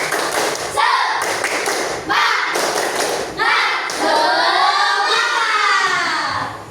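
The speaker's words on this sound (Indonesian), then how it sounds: "Sekali lagi, tepuk semangat." Several rounds of group clapping in a quick rhythmic pattern, loud and close, with children's voices chanting along between the claps.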